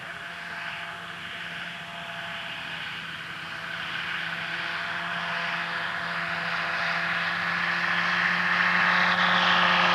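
Kitfox light propeller aircraft taking off and climbing, its engine drone a steady buzzing tone that slowly grows louder over the ten seconds.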